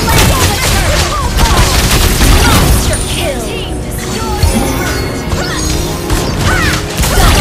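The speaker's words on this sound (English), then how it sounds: "An ally has slain the turret." Dense, continuous game combat in a mobile MOBA match as a turret is destroyed, with crashing impacts, bursts and whooshing effects piled on a loud, busy mix throughout, with an announcer voice faintly under it.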